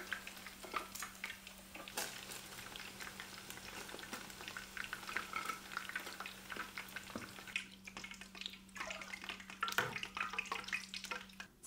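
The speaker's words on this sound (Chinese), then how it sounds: "这回把鸡块炸的表皮焦黄" Chicken pieces deep frying in hot oil, a dense, continuous bubbling sizzle with crackles, close and steady, under a faint low hum.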